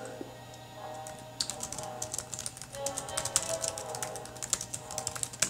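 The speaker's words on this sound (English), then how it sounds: "while you are typing in this text box" Rapid typing on a computer keyboard while playing Space Nerds In Space, with dense irregular key clicks over a steady low hum, close and moderately loud.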